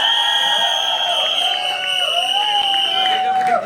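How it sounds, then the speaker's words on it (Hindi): Loud cheering crowd at a film trailer launch, sustained shouts and whoops layered over general hubbub, with a long rising cry standing out near the end. "जोरदार तालियां उनके लिए।"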